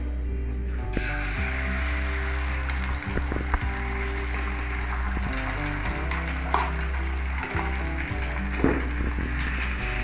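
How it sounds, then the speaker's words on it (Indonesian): Beaten, unsalted eggs scrambled in hot oil in a pan for fried rice, giving a steady, close sizzle with occasional scraping stirs throughout. "Jadi kita orak-arik semua telurnya supaya ada tambahan rasanya."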